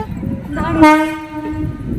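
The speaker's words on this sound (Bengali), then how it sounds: "ট্রেনটা ছেড়ে গেল" A train horn sounds as a train pulls out of a station, one loud sustained blast near the middle over a steady rumble of rolling carriages.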